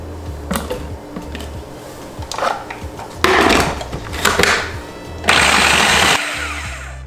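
Food processor chopping cauliflower into rice-sized pieces, a choppy mechanical whirring in short bursts with clattering, growing louder and denser toward the end before stopping.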